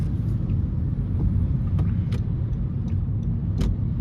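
Inside a 10th-generation Honda Civic driving on a wet road after rain, a steady low tire and road rumble fills the cabin with the windows closed, with occasional faint clicks and rattles.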